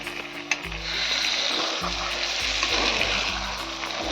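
Liver chorchori fries in oil in a pan, giving a dense, even sizzle close by, with a brief knock near the start and faint stirring, no talk.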